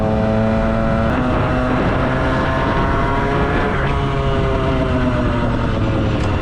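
A Derbi GPR 50cc motorbike with a Racing Turbo Kit exhaust runs loudly and steadily, its engine drone holding a constant pitch with a slight rise partway through, close to the listener.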